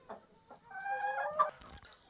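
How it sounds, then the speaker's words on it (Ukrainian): Chickens in a coop clucking close by, a few short clucks followed by a longer, louder drawn-out squawk and then quiet. "Так, тут у нас інші курі."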